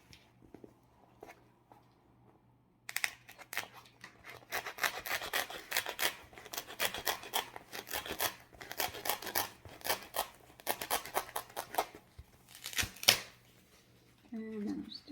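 A knife cutting through craft material for a gnome: after a quiet start, a long run of quick, rasping strokes, close and fairly loud, in uneven bursts before it trails off.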